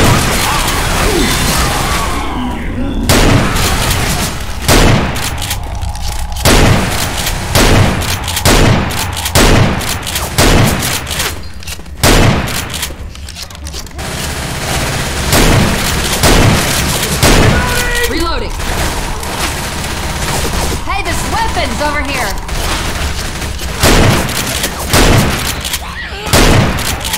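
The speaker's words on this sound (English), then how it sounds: "What are you shooting at?" Left 4 Dead 2 game gunfire, with rapid, loud repeated shots and booms running almost nonstop over a dense game soundscape, while voices shout over the shooting.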